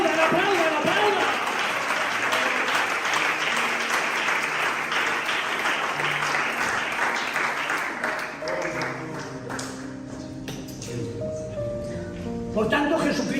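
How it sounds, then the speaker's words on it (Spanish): A church congregation claps loudly and continuously during a sermon on the divinity of Jesus, dense clapping mixed with crowd voices that tapers off as music comes up. "¡Aplaudan, aplaudan, aplaudan, aplaudan!"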